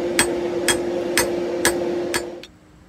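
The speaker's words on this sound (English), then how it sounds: "And then forge all this in to make the handle." Hammer forging a wrought iron knife handle on an anvil: five evenly spaced, ringing metallic strikes about half a second apart over a steady hum, then a final lighter tap before the sound drops away.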